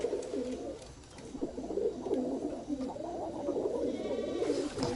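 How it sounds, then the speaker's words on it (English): Pigeons or doves cooing outdoors at a villa building site, a continuous overlapping chorus of low, throaty coos from several birds, steady and fairly close throughout, with no speech. "And here I have my birds making some noise."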